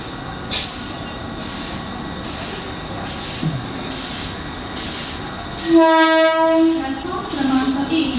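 A Mumbai local train rolls into a station platform with a loud, continuous rumble and rattling carriages, and a strong horn blast sounds partway through, all in a busy, echoing station.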